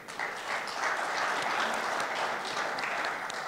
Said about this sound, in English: a big applause for all the installations at the Palm